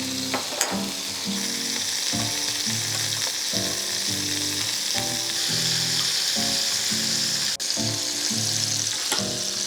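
Shrimp seasoned with salt, garlic powder, paprika, red pepper and black pepper fry in olive oil with a loud, continuous sizzle, broken by occasional stirring clatter and no talking.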